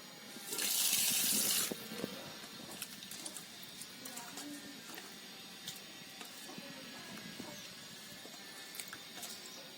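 Clean water gushes from a tap for a second or so while fish from a creek is washed, followed by quieter clicks, faint handling and light water sounds in a kitchen, with no talk.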